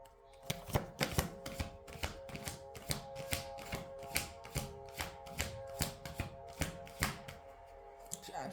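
A deck of cards is shuffled again and again, crisp rapid riffles in a steady rhythm of about two per second, close and fairly quiet, with no talking.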